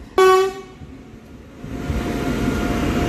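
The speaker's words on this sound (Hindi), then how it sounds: "है न्यूज से पहले हॉर्न मारने लग रही है चलने के लिए।" A loud train horn blasts for about half a second before departure, then fades into a low rumbling of the train and station noise.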